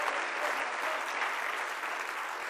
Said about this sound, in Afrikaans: Kom aan, klap vir die Here.